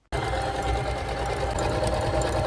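A sewing machine stitches fabric in one steady, loud, close whirring run that starts abruptly and continues without pause, with no voices.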